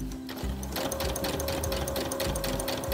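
A sewing machine runs a straight stitch through fabric for a drawstring bag, a steady, close mechanical whir with a fast rhythmic needle chatter that never stops.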